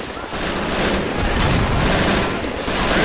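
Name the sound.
machine gun fire in video game Men of War Assault Squad 2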